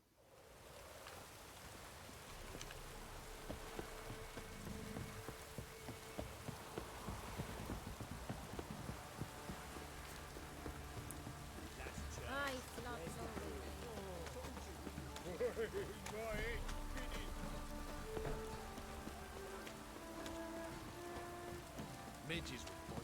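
A steady rain downpour patters and hisses continuously in The Witcher 3, with faint clip-clop and other game sounds mixed underneath. The rain stays soft and even throughout.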